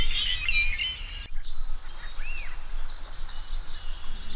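Springtime dawn birdsong in the Fox River Valley: several birds trill and whistle at moderate distance, with repeated short notes and a rising-falling call, steady and clear with no talking.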